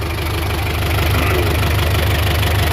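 Tractor engine idling at a steady pulse, a close, even low chug that holds throughout with no voices.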